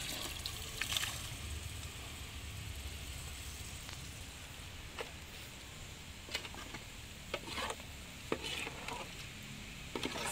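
Pork meat sizzling and frying in a pan for a Kerala-style pork with tapioca dish, with a steady hiss and occasional scraping stir strokes, close and continuous without talk.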